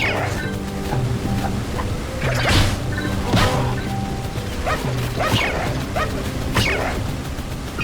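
Cartoonish puppies in the Jak and Daxter video game yip and whimper repeatedly over steady game music and whooshing effects, the sharp little barks recurring every second or so.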